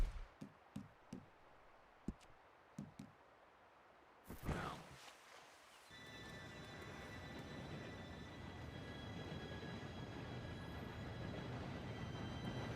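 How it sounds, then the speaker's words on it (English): A train arrives in the Red Dead Redemption 2 video game. A few sharp clicks and taps come first, then a short burst, then a steady rolling rumble with faint high metallic whines that builds and holds. "Train should be here any minute."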